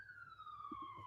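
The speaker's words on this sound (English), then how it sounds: "this is common to have police sirens on your phone calls" A police siren wails faintly in the background of a phone call, a single steady tone that slowly falls in pitch, with a few low muffled bumps underneath.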